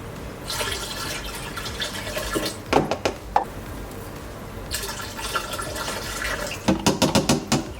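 Liquid hydroponic plant food being poured and stirred into a reservoir of water in an indoor hydroponic garden, giving a steady watery pouring with a few sharp splashes and clinks, close and alone.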